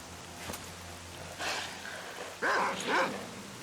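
Dogs bark and yip from a roaming pack in the video game STALKER: Call of Pripyat, a few short barks spread over a few seconds, the loudest near the end, moderately close.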